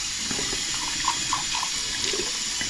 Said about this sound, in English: so that's pretty thoroughly rinsed away